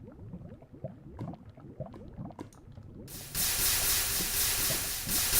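Lava meeting water in Minecraft, a loud steady hiss of steam that bursts in suddenly and holds for a couple of seconds, after a stretch of someone talking.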